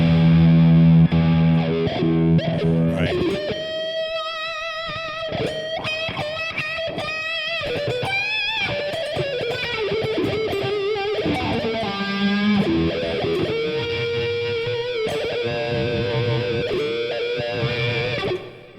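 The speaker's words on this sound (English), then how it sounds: "So yeah, I'm digging this little wah-wah pedal." Distorted electric guitar notes ring out through a Friedman Gold 72 wah pedal sweeping widely through the tone, vowel-like and throaty, played alone and close.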